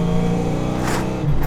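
Ford Fox Body car running on the road on the way to Willow Springs Raceway: a loud, steady engine drone heard from inside, with a brief rise in revs toward the end.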